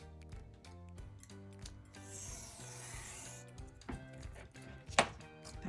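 Scissors cutting washi tape into one-inch strips, a few quiet snips and a longer soft rasping cut, with a sharp snip near the end, heard close and faint.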